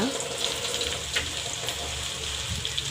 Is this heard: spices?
yes